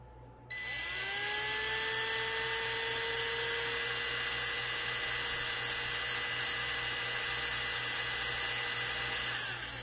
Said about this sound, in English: you need to drill a hole inside of here